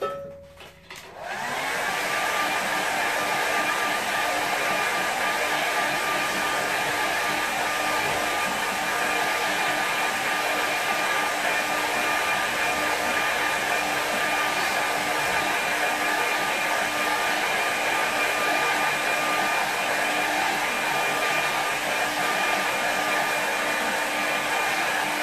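A hair dryer runs steadily to dry a watercolour painting, switching on at the start and then holding a loud, even, continuous whir close by, with no talking.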